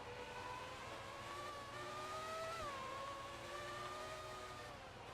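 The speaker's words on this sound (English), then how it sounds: "this high-pitched engine is killing my ears right now" Shrill, high-revving Formula 1 car engine in F1 2018, a sustained whining tone held at steady pitch with a brief dip midway, continuous and loud throughout.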